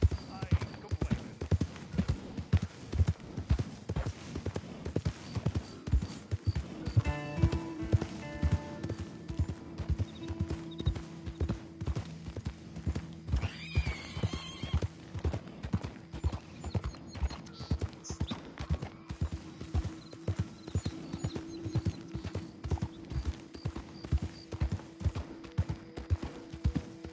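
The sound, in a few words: horse hooves clip-clopping and neighing, from video game Red Dead Redemption 2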